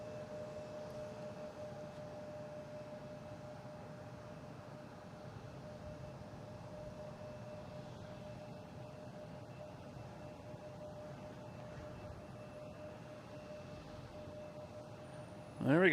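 At Boston Logan International Airport, a jet taking off from the runway makes a faint, distant, steady roar with a thin whine, and the sound holds evenly throughout before a brief louder bump at the very end.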